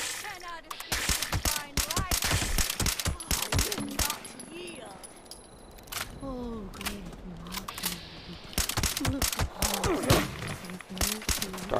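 Sharp, scattered gunshots in Fallout 76, including fire from a radiant gun, cracking out in irregular clusters over roughly twelve seconds, with voices speaking in the gaps.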